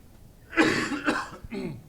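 A couple of rough, close coughs in quick succession, followed by a short throaty follow-up, with no talking.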